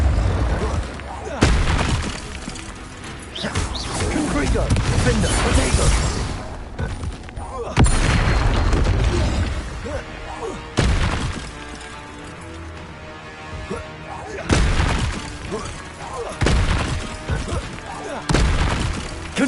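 Confringo blast spells in the Hogwarts Legacy video game, a run of loud booming explosions in repeated bursts, dense and close, with brief lulls between blasts.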